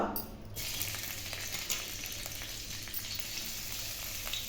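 Finely chopped ginger and small shallots fry in hot oil, giving a loud, continuous sizzle close by that holds steady throughout, with no talk.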